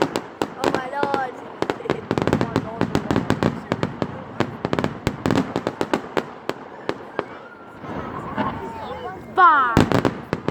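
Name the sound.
bonfire night fireworks exploding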